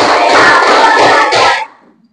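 A classroom of students clapping together in counted rhythm, a dense run of loud, near hand claps lasting about a second and a half before stopping abruptly.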